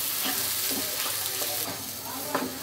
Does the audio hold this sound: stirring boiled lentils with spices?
yes